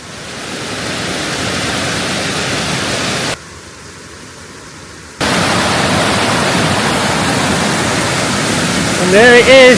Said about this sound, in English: Now getting to the top of the waterfall.